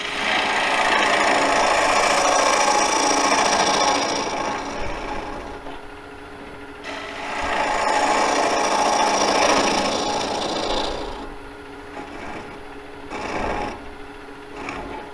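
A bowl gouge cuts into a wooden bowl turned from a log on a lathe. Two long, close, rasping cutting passes are separated by a quieter spell, then shorter scraping touches follow. No one speaks.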